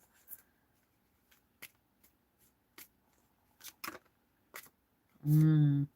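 Tarot cards being shuffled, a series of brief, soft, crisp card snaps and slaps spaced irregularly in a quiet room, ending with a short burst of a voice speaking.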